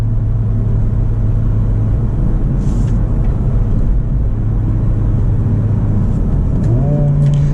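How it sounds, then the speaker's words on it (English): A 2024 Honda Civic Type R engine runs at a steady drone throughout, then blips upward near the end as the automatic rev matching briefly lifts the revs; no one speaks. "Now that's that car doing the rev matching."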